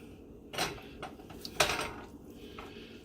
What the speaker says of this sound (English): Let's cut into this here turkey breast and see what she looks like on the inside here